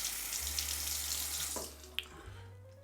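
Tap water runs into a sink for a rinse during a face-lathering shave, a steady close hiss that cuts off near the end with a small clink.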